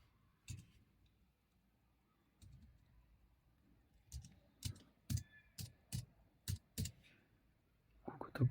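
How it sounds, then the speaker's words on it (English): Someone types on the keyboard of an AGM Mobile Pad P2 tablet, producing a sparse run of sharp clicks that become quicker and more regular toward the end, each one close and fairly quiet. "Also we use keyboard."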